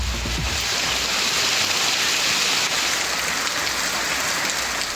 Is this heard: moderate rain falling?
yes